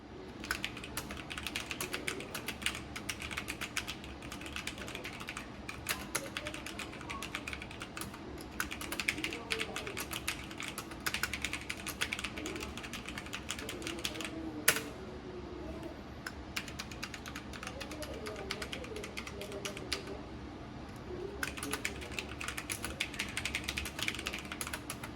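Someone types on a Logitech G512 Carbon mechanical keyboard with GX Red linear switches. A continuous, fairly quiet patter of key clicks and clacks plays close to the mic.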